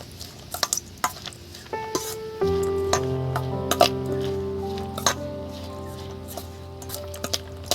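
A spiced filling for Mughlai paratha, seasoned with black pepper and roasted spice mix, is stirred in a pan, giving repeated scraping and clinking spoon strikes over a soft sizzle, with a sustained tonal hum rising partway through.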